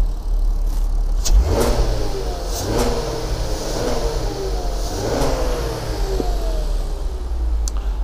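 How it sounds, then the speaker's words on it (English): A tuned six-cylinder car exhaust note pulling through the gears, rising in pitch in repeated surges with brief dips at gear changes, loud and close under light road and wind noise. "The exhaust in this car was tuned much more than that in the Mark IV"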